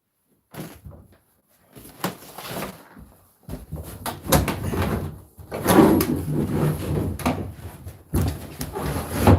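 Doors are opened and shut around a house during setup work, giving a series of irregular wooden clunks, knocks and sliding thumps, fairly close, with no talk.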